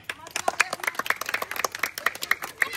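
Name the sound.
people clapping at Ganesh puja candle lighting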